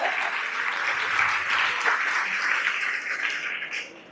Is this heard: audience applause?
yes